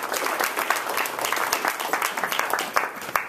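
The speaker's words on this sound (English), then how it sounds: "if we could just give a round of applause for coming out" An audience applauding at a panel discussion, steady dense clapping throughout, fairly close and loud.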